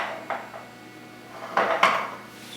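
A metal baking pan holding a vegetarian nut loaf is picked up and handled, giving a few scattered clanks and scrapes, with a louder pair of knocks near the end, close by and without talking.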